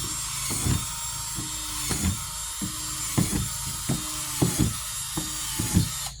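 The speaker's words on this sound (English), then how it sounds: "take your drill holes in it with the biggest bit you have" A power drill with a large bit whirs in a series of short bursts about every half second, each biting into an old sandbox at close range, with no voices.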